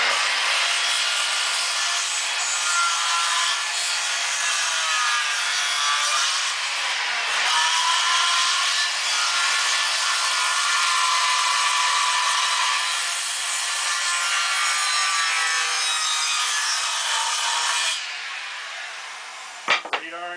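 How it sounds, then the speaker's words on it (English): A skill saw cuts a radius through thick wood while framing the front of a Shasta trailer under restoration, giving a loud, steady rasping drone that runs unbroken for about eighteen seconds before cutting off, followed by a couple of brief knocks. "you can't cut the radius in this thick of wood with a skill saw, but I can get it pretty darn close"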